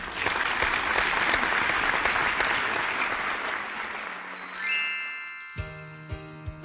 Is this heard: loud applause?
yes